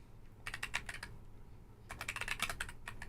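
Fast typing on a computer keyboard, two bursts of rapid clicking keystrokes separated by a short pause, close up over a low room hum.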